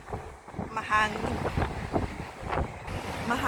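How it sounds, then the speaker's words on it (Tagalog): Wind gusts buffet the microphone on a seaside promenade in Tsuen Wan, Hong Kong, a steady loud rumbling roar with people talking faintly underneath. "Mahangin."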